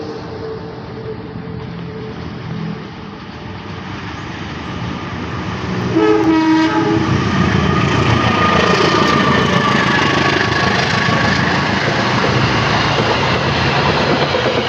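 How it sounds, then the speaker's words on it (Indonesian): A Logawa passenger train rolls loudly through Leces station in Indonesia, a horn blast sounding midway as the rumble and clatter swell and continue steadily to the end. "kereta api Logawa sudah melintas di stasiun Leces"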